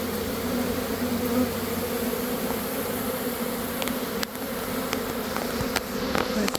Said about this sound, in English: There's more bees over here.